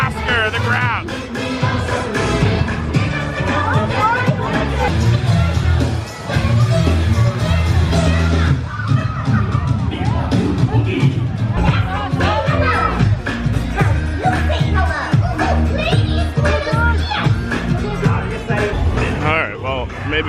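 A dense crowd at Sea World Orlando fills the air with loud continuous chatter and children's voices over music, with people talking close by throughout.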